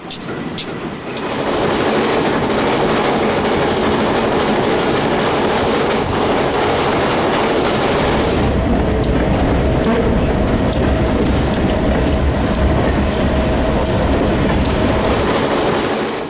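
A Santa Fe passenger train of a railfan excursion rolls through Franklin Canyon toward a tunnel and trestle, a loud, steady rumble of wheels on rails with rhythmic clickety-clack and sharp ticks, heard close from aboard.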